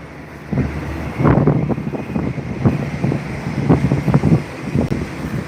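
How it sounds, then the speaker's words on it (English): Loud, steady rumble of a long train passing nearby, with rhythmic clacking of wheels running through it. "Yes, it is a very long train, and loud."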